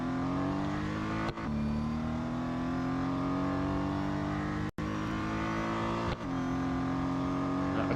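A racing car engine in the Real Racing 3 game, on the Mount Panorama autocross, holds a steady, loud, buzzing drone that climbs slowly in pitch, broken by a few brief gear-change dips.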